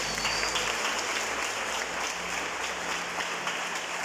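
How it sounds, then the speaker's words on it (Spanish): A church congregation applauds during a sermon, giving dense, steady clapping that fills the room evenly from start to finish, with no talk over it. "Démosle ese aplauso a Jesús."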